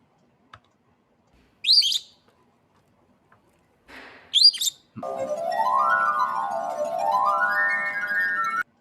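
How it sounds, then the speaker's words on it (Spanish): Pure ringing tones from wine glasses holding different amounts of water, two brief bright notes and then a sustained melodic run of rising and falling tones, played clearly with no talking. "un montón de copas que tienen diferente cantidad de agua"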